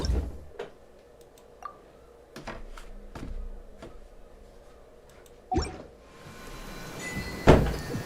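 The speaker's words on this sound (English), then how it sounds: "Ignore that door opening and closing noise." An indoor door opens and closes off to the side during a gaming session, heard as several scattered knocks and clunks followed by a louder bang and a final sharp thud, with no voices.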